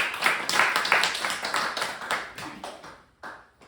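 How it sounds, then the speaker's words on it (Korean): A small group claps together at a Korean campus ministry training session, with distinct, rhythmic hand claps that start strong and taper off. There is a brief gap before a final scattered burst. "박수 한번 합시다."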